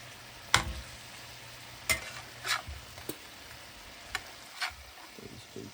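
Fish fillets frying in butter in a pan, a faint steady sizzle broken by several sharp clacks and scrapes of a spatula turning the pieces.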